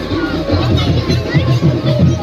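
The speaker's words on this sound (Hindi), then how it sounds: "इधर भीड़ है" A dense, steady crowd hubbub at a Chhattisgarhi village fair (mela madai) in Chitawar, where Raut Nacha dancing takes place. Many overlapping voices and chatter fill the whole stretch, close and loud, with no single speaker standing out.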